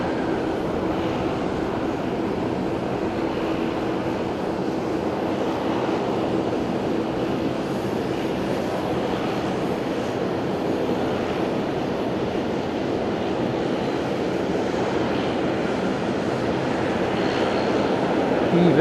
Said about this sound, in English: Dreamliner coming.